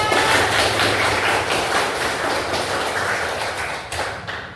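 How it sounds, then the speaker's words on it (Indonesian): A class of pupils applauds together, a dense, steady wash of many hands clapping, close and fairly loud, continuing without pause and thinning slightly at the end. "tepuk tangan untuk semuanya"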